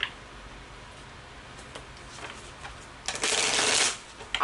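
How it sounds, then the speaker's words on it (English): Tarot cards are shuffled by hand in soft, scattered riffles that build to a dense, louder burst of flicking near the end, close and alone without talk. "I can't even remember if I shuffled these all the way."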